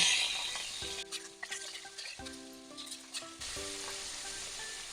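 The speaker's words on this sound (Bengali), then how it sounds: "মাছগুলো দিয়ে ভালো করে ভেজে নেব" Rohu fish pieces frying in a pan crackle and sizzle softly up close, the bubbling joined by a few sustained tonal hums in the middle, with no speech.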